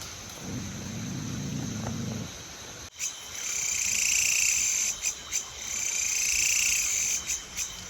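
High-pitched chirping and trilling from small birds fills a night forest soundscape, steady and continuous after a brief low rumble at the start.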